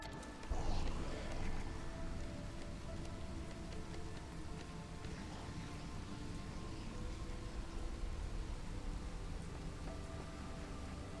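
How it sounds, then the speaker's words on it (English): Steady storm rain in the video game Against the Storm, a continuous dense patter with a brief swell near the start, alone without talk. "Just as you're going into the storm."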